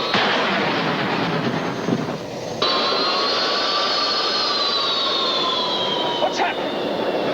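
Port engine failing on an aircraft in flight: a steady, loud broadband jet roar fills the cabin, then a rising whining tone sweeps in and holds, with a brief rattle near the end.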